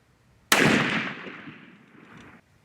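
A single loud custom smokeless-powder muzzleloader rifle shot, a sharp crack followed by a long fading roar of echo that rings out for nearly two seconds before dying off.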